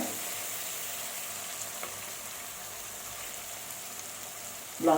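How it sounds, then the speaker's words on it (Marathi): Ginger, garlic and chili paste fries in a pan, a steady close sizzle that crackles softly throughout, ending in a brief louder rustle of stirring. "आपली आलं लसूण मिरचीची पेस्ट जी आहे ती आता परतून झालेली आहे"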